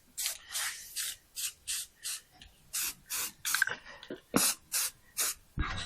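Light coat of spray hissing onto metal suspension parts of a Legacy GT wagon during a Bilstein install, about a dozen short close bursts in a quick regular rhythm, alone without talk.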